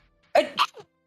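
A single sneeze heard close and clear in a quiet room, a sharp two-part burst followed by a brief softer tail, with no talk over it.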